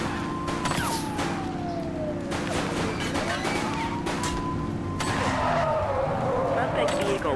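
Gunfire in the police video game The Precinct, a few sharp reports mixed among wailing police sirens and traffic noise, with a voice speaking over the scene.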